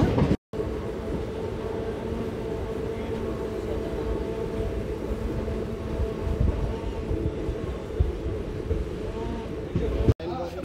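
The Tirupati Express 17261 runs on rails in a steady, continuous rumble heard from inside a carriage, moderately loud and even, with brief dropouts near the start and end.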